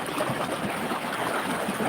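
The Tad Yuang waterfall in Laos pours with a steady, dense broadband rush, close and continuous, with no voices over it.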